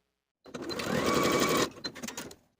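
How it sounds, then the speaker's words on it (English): Sewing machine running steadily for about a second to stitch a 5/8 inch side seam on a skirt facing, followed by a few short stuttering bursts as the stitching stops; close and clear, with no talking. "Then I'll sew with a 5/8 inch seam allowance and press the seam open"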